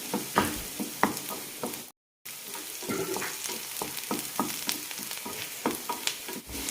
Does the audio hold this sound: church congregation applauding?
no